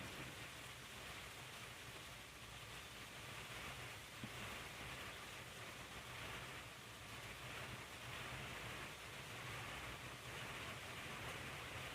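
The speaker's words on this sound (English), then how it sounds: "we no sooner got home and it started pouring" Steady, heavy rain roars without a break, a dense hiss of pouring water that holds at the same level throughout.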